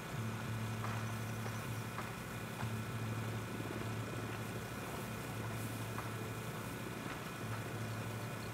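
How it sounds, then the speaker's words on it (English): A helicopter flies in a video game set around a cocaine stash, its faint, distant rotor drone and engine whine held low and steady beneath a soft, pulsing rhythm, with no speech. "We need that chopper."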